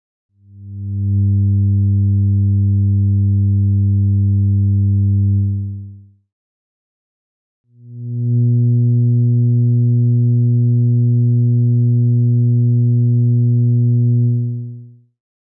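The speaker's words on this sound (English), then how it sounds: "The electrical humming noise." Electrical humming noise, a smooth low mains-frequency drone, plays in two steady, fairly loud stretches with a brief gap between them and nothing else audible.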